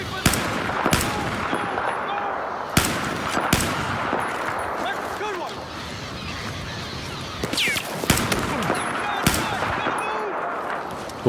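Gunfire in Battlefield 4 during a campaign mission, with loud sharp shots cracking in irregular bursts over a dense, busy game soundscape.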